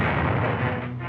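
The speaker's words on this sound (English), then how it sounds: "Japanese cannons fire along a dirt road" Japanese cannons fire along a dirt road in a 1945 wartime newsreel, a dense, loud booming roar that fills the whole brief moment with no clear gaps.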